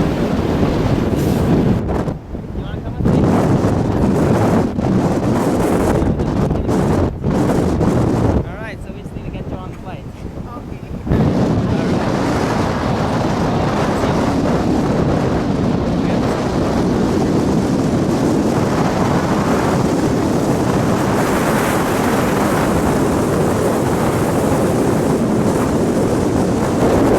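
Wind buffets the open bed of a pickup truck rolling along island roads in Dominica, a loud, continuous rush over road and engine rumble, with a brief lull midway before the roar returns.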